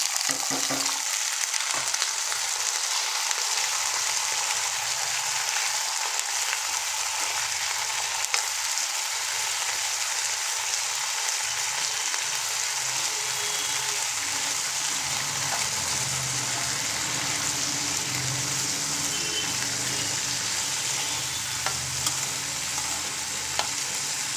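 Flat beans sizzle steadily in hot tempering oil, a loud continuous frying hiss with occasional stirring, close and alone with no talk.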